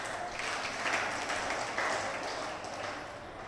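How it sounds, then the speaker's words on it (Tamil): Audience applause at a Tamil question-and-answer gathering, a steady wash of many hands clapping at moderate distance, sustained evenly for several seconds without talk. "கேள்வி கேட்டவங்களுக்கு அவங்களுக்கு ஒரு கைத்தட்டு போடுங்க"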